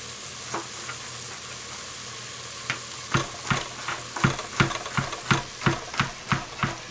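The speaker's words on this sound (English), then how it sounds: "we're going to cook the shallots, the mushrooms, the garlic for about 4 more minutes now" Shallots, mushrooms and garlic fry in a pan with a steady sizzle, while a utensil scrapes and stirs in a quickening run of sharp strokes toward the end.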